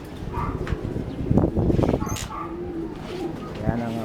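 Racing pigeon stock hens in a loft in the Philippines, soft repeated cooing close by amid shuffling and background noise, with someone speaking over it.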